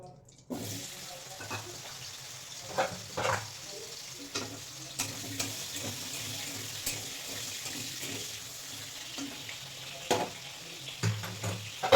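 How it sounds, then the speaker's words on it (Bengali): Pumpkin pieces fry in hot oil in a home kitchen, giving a soft, continuous sizzle punctuated by occasional light clinks and stirring sounds, fairly quiet and without talk. "এবার ভেজে নেব কুমড়ো"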